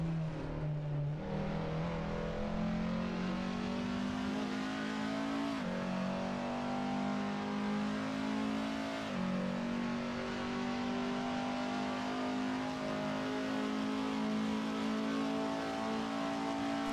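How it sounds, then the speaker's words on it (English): Honda touring race car engine at Imola in a BTCC round, loud and close, holding high revs with sharp pitch drops at each upshift, roughly three gear changes, then climbing again. "Let's take a little bit moment to enjoy the sounds of the Honda though."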